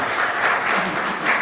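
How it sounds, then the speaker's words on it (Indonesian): Brief, steady applause from an audience at a talk, a full burst of clapping lasting just over a second. "beri tepuk tangan"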